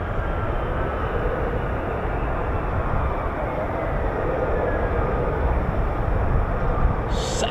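An F-35B stealth fighter jet in a vertical landing gives a continuous loud, broadband roar that holds steady and near, with a brief higher hiss at the very end.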